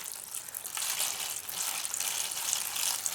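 Water mixed with soluble fertilizer is poured into a seed tray, filling it about halfway with a continuous splashing gush that holds steady and fairly close throughout.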